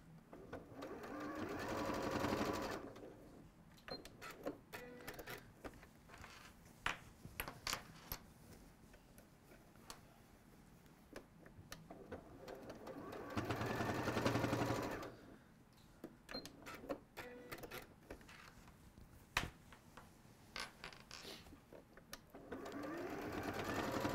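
Sewing machine tacking patchwork bag pieces in place, its quiet whirring stitches running in two longer swells separated by stretches of light ticking and clicking, all faint and close, with no talking.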